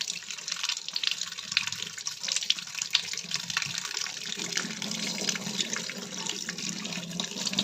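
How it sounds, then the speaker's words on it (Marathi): Flattened rice (poha) is rinsed under a running kitchen tap, a steady, fairly quiet splashing stream of water with soft bursts as the flakes are worked by hand, and no one talking. "आता हे पोहे नळाखाली स्वच्छ धुवून घ्यायचं आहे"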